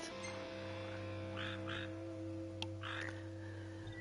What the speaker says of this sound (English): And I hear frogs.